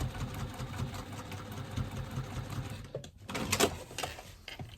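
A sewing machine runs a second line of stitching along a side seam, a steady mechanical hum for about three seconds before it stops and a few handling clatters follow.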